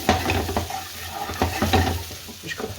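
Browned lamb is stirred in a hot frying pan for British Indian restaurant-style pre-cooking, with caramelised bits on the pan. A spatula scrapes and knocks several times over a lively, close sizzle.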